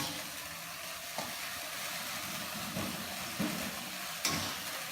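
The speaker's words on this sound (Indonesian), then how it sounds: "Ini yang masak, yang dia ngaduk terus nih." Instant noodles, Aceh-style Indomie, fry in a pan and are stirred continuously, a steady close sizzle with occasional scraping clicks of the utensil.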